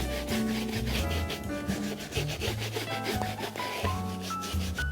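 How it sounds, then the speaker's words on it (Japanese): Brush rubbing brown emulsified cream into the strap of a grained-leather chukka boot, a steady close scrubbing swish in rapid back-and-forth strokes, heard alone without talk. "次は茶色の乳化性クリームを少しブラシに取ってベルトのあたりに塗り込んでいきます。"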